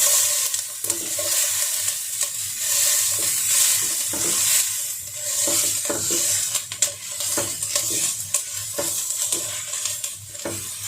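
Capsicum sizzles and fries in a pan with a steady hiss that continues throughout, while a utensil stirs and scrapes it now and then, close up and with no talking.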